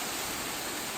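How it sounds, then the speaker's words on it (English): Buttermilk Falls, the highest waterfall in New Jersey at about 200 feet, makes a constant broadband roar of falling water, steady and enveloping with no other sounds. "we are at Buttermilk Falls, which are actually the highest waterfalls in the state of New Jersey"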